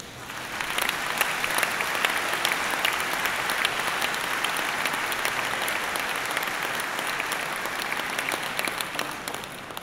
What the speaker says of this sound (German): ein aufrichtiges Dankeschön und einen besonderen Applaus verdienen.